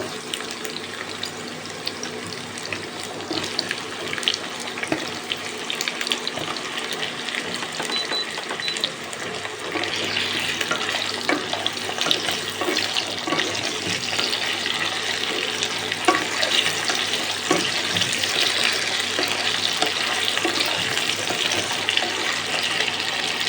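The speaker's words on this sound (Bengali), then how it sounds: "একটু ফ্রাই করে নেব টমেটোটা।" Raw tomato and diced potato fry together in a pan for a home-cooked orange potato curry, giving a continuous hissing sizzle that holds steady and grows slightly denser partway through, with no voices over it.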